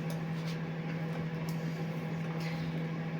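A microwave oven runs while heating water for dough, giving a steady low electrical hum with a constant tone, close by and alone, with a few faint clicks.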